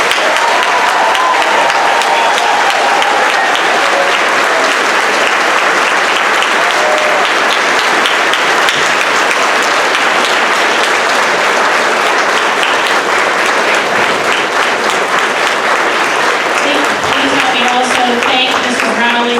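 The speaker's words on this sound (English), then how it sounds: "Let's give our 8th graders a round of applause." A large audience at an 8th grade graduation claps loudly and steadily for a long stretch, dense applause filling the room.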